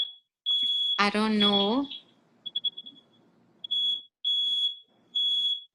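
A smoke alarm inside a house sounds a shrill, steady tone in long repeated bursts, broken into short chirps at one point, while a person speaks briefly over it.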